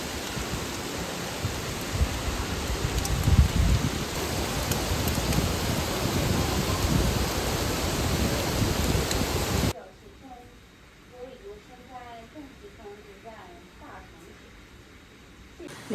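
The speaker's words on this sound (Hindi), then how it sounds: "देखो अभी धीरे धीरे इतनी तेज़ बारिश बढ़ गई है कि पूछो मत" Heavy typhoon rain in China pours down as a loud, dense, steady roar for about ten seconds, then drops abruptly to a much quieter scene with faint voices.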